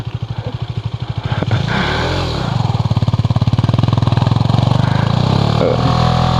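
A motorcycle engine revs hard and loud nearby, throttle blipped in a steady pulsing rhythm while the bike is pushed along on ordinary tyres at a beach; no talk.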